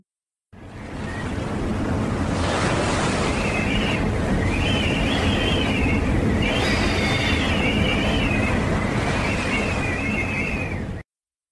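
Storm at sea with roaring wind and crashing waves, a continuous loud broadband rush with whistling gusts rising and falling throughout.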